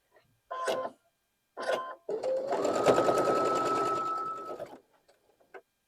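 A sewing machine chain-pieces quilt block pieces for a Carpenter's Star block: two short bursts of stitching, then a long steady run of rapid needle hum for several seconds, close and clear, with no talking.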